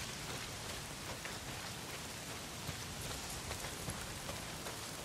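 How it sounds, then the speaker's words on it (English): Heavy rain pours steadily in the Days Gone video game, a constant dense hiss of drops with a few louder splatters and no voices. "not if it's pissing down rain"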